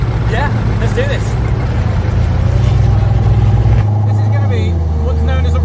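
A green carbon Koenigsegg Regera hypercar builds speed with a deep, loud engine rumble and road roar, its tone shifting partway through, while voices talk excitedly over it from inside the cabin.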